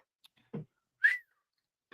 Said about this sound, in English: I heard a little whistle.